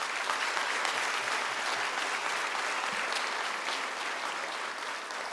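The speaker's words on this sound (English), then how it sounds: "So give them a big round of applause." A large audience at a high school senior awards ceremony gives a big round of applause, a steady, dense wash of clapping that holds an even level throughout.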